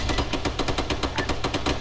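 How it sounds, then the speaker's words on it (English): Sustained automatic fire from an enemy AK rifle in ARMA 3, a steady rhythmic stream of shots repeating about every tenth of a second, loud and continuous with no talk. "There's some large enemy AK firing."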